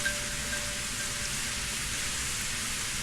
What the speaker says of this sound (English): Thin steps can be heard in the heavy rain.